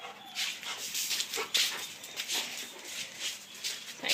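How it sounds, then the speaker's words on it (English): A dog whimpers and whines in soft, repeated high cries at close range on a homestead, the sound faint and broken into short pulses. "Let me get the dogs out of here."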